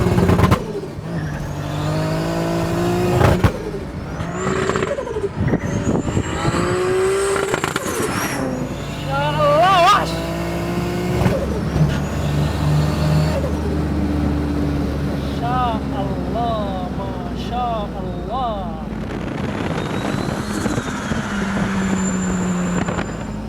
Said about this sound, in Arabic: سامعين صوت التيربو؟